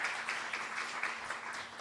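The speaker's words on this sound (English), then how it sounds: "everybody give them a round of applause," Round of applause from an audience at a justice and economic empowerment event, a faint, fairly distant patter of clapping from a crowd.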